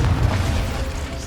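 A Confringo fire spell blasts in the video game Hogwarts Legacy, a short, heavy, booming burst up close that stays low and loud through its brief length.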